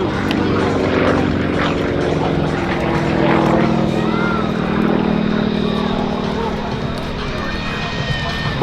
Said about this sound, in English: This, the SU-31, a derivative, furthermore, of the SU-29, the two-seater maneuver.